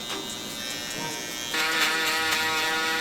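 An electric shaver buzzes steadily during a fade haircut, a close, continuous high-pitched whine that grows louder and harsher halfway through as it presses against the hair.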